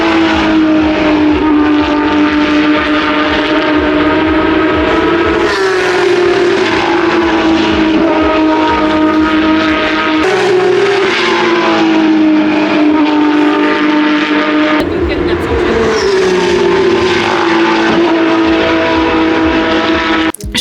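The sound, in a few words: Porsche race cars driving at Spa-Francorchamps circuit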